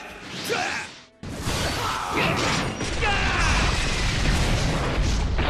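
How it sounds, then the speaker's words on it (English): Wind Style Vacuum Blast Barrage special attack in the Naruto x Boruto Ninja Voltage game: a dense, continuous rush of whooshing blasts and crashing impacts, loud and unbroken after a brief gap. "Wind style, vacuum blast barrage."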